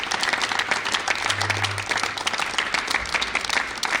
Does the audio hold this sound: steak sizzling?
no